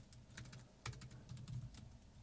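Computer keyboard keys tapped in quick bursts while code is typed into a Python notebook cell, a close, fairly soft clatter with short pauses and no talking.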